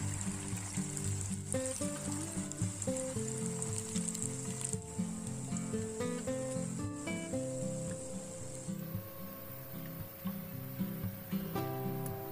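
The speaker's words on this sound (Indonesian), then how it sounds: "Setelah panas, langsung saja goreng adonan bakwannya." Bakwan vegetable fritter batter fries in hot oil with a steady, crackling sizzle that runs throughout, under background music.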